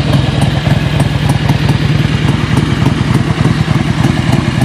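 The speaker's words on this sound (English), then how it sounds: "Great sounding bike." A 2002 Harley-Davidson Electra Glide Classic idles close by, a loud, steady, lumpy engine thump with a fast, even pulse and no talking.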